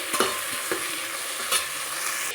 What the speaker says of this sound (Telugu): రుచికి సరిపడిన కళ్ళుప్పు వేసుకొని వీటన్నిటిని ఫ్రై చేసుకోవాలి